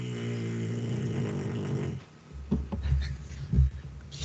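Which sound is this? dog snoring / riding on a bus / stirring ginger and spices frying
dog snoring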